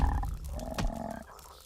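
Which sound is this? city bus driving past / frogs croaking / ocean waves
frogs croaking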